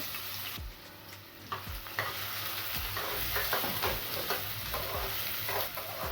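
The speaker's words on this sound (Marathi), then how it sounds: "कांदा हा ब्राऊन होईपर्यंत आपण भाजून घेऊया गॅस थोडा मध्यम करूया" Onion sizzling steadily in plenty of hot oil over a medium flame for a dhaba-style chana masala, with a constant fry hiss and a few clicks and scrapes of stirring, close and alone.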